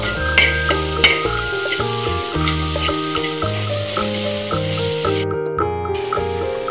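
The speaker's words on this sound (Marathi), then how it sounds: "मी ही भाजी 2 मिनिट शिजवून घेणार आहे आणि सतत फिरवत सुद्धा राहणार आहे" A dried bombil (Bombay duck) dish with green chillies sizzles steadily in a pan as it is stirred continuously, a soft frying hiss under louder background music.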